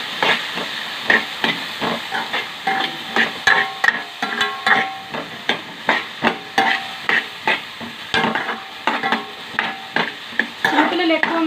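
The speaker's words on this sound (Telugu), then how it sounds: "బాగా మిక్స్ చేసుకోండి." Maggi noodles and vegetables get stirred in a pan, the spoon scraping and clacking in a steady repeated rhythm over a soft sizzle, close and fairly loud, with no talk.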